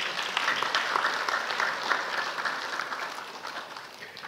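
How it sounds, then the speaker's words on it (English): A church congregation at a Sunday morning service claps steadily in a dense, moderately distant wash of applause that fades slightly toward the end. "I think y'all deserve a round of applause for yourselves"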